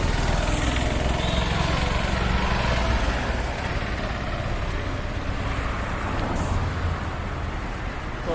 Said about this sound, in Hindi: हमारी गाड़ी स्कॉर्पियो जो कि अभी फुल रेडी है, पापा चला रहे हैं